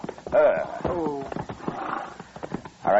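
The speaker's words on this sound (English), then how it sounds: "Ease up, Chester, so we don't scare the horse" A horse neighs and snorts amid hoof clip-clop beside a buggy near a bridge in an old Western radio drama, short whinnies at the start and end over quieter movement.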